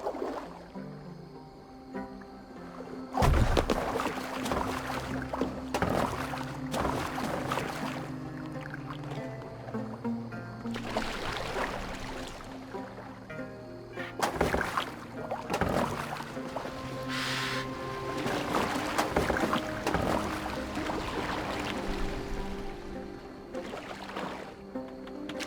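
A boat moving over water in Assassin's Creed Valhalla, with steady lapping and sloshing under game music and occasional thumps throughout.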